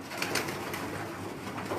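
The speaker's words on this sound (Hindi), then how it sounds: "खलीफा साहब के घर का कबूतर है ये, ठीक है जी, ब्रीडर कबूतर है।" A breeder pigeon coos close by, a few soft low throaty pulses over faint background noise, with no talking.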